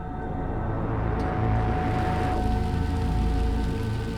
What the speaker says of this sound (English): The situation has reached a point where the rain is so constant that Meyqool has to take into account how mu